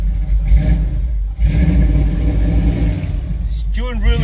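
A 1978 Dodge Chinook's engine rumbles at a low idle, then surges in quick revs near the end, close and loud, with someone talking over it.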